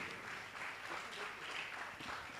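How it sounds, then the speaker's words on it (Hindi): Faint, steady applause from an audience at a Jain religious gathering, a dense continuous patter of clapping that carries on without a break. "एक बार जोरदार आपकी तालियां लगातार बजना चाहिए बंधुओं"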